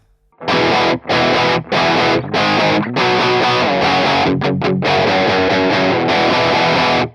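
Electric guitar driven through a Nambrini Audio Klon-style overdrive pedal into a free amp simulator, playing loud, saturated strummed chords in short bursts with brief gaps, then a longer sustained passage.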